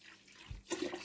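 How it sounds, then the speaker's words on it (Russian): Cold well water poured into a jar of sugar and lemon juice for homemade lemonade, a brief, quiet splash and trickle of liquid. "Все, заливаем. У меня вот холодная вода колодезная."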